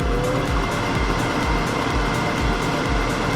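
Birch, walnut and resin vase spinning on a lathe, a loud steady motor drone with an even rhythmic low thump from the rotation, close and continuous with no talk.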